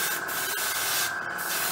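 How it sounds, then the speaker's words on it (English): An airbrush sprays thinned paint at low air pressure onto a 1/35 scale HobbyBoss IDF Nagmachon armour model, giving a steady close hiss that continues through the whole short stretch. "you can spray at a lower air pressure"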